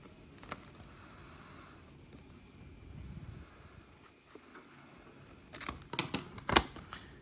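Scissors snip through the material of a homemade surgical mask holder, a few faint crisp cuts early on, then a quick cluster of sharper, louder snips near the end in a quiet room.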